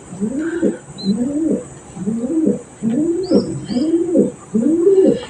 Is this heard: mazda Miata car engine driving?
no